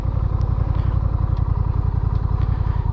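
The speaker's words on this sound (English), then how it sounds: "And that's shifting gears on a motorcycle." Motorcycle engine running close up with a steady low throttle rumble and clattery mechanical noise, a few brief clicks suggesting gear shifts, no talking.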